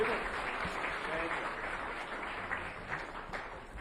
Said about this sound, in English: Give them another round of applause, and thank you to our judges.